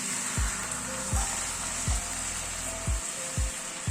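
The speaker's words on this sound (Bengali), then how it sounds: "আলুটা দিয়ে মশলার সাথে একটু মিনিট খানেক নাড়াচাড়া করে নিলাম। এবার গরম জল দিয়ে দিচ্ছি।" Potatoes frying with spice masala in a pan, a steady hiss and sizzle with a few soft bumps of stirring or pouring, close and fairly quiet, no talk.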